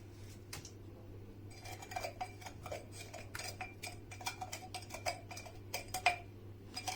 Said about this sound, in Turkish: Şimdi hepsini tekrar beraber çırpmaya devam ediyoruz